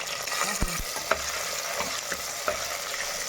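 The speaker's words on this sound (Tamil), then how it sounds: "வெங்காயம் நல்லா ஒரு ரெண்டு நிமிஷம் நல்லா வதக்கிக்கலாம்" Small shallots and green chillies sautéing in an oil-filled clay pot, a steady close sizzle broken by several sharp scraping knocks of a spoon stirring against the pot.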